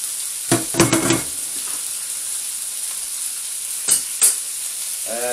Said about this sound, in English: The meat is going to go in and gently fry.